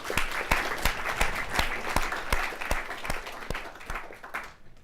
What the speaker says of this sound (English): So let's give a round of applause to our speakers.